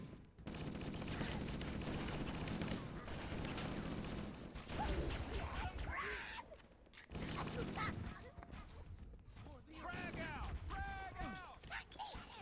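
Dense automatic gunfire and a frag grenade blast from a Halo shooter, with loud overlapping bursts almost nonstop, brief lulls, and game voices or chatter mixed in.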